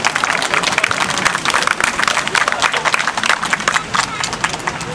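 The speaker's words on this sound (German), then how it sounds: "Und ja, das ist ein Applaus wert." A crowd at a volunteer fire brigade open day claps for a youth fire brigade team, a dense, steady burst of applause lasting several seconds at close range.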